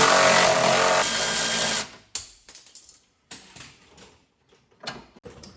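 A power tool runs loudly for about two seconds while a bolt comes out of a Ford Mustang's rear suspension, then stops, followed by several sharp metallic clinks and knocks of the loosened parts.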